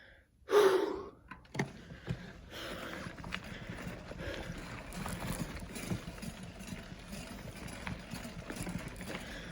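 Loud breathing and gasps from someone exerting outdoors, close to the listener, with rustling and movement noise underneath.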